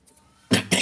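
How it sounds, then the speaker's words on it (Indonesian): Two short, sharp coughs in quick succession, close by, during a repair of a broken Miyako rice cooker that no longer keeps rice warm. "mohon maaf ya sedikit agak batuk"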